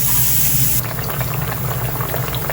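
Saba bananas fry in hot oil in a pan, giving a loud, dense bubbling hiss that stays steady and close, with a slight shift in texture early on and no voices.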